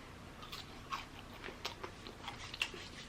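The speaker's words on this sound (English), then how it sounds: "I'm gonna have some more of these fries first." Arby's fries are chewed near the microphone, a faint run of soft, crunchy bites and mouth sounds in an irregular rhythm with no talking.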